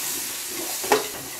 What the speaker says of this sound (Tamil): இப்போ வெங்காயத்தை சேர்த்துக்கலாம். வெங்காயம் சேர்த்து நல்லா வதங்கணுமா.